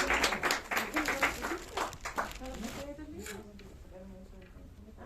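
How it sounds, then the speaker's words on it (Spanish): Applause from the audience at a Chilean poetry book launch, a burst of clapping over the first few seconds that fades into quieter murmuring and voices. "darle como un aplauso también para que comience"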